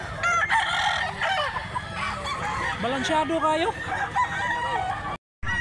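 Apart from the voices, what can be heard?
roosters crowing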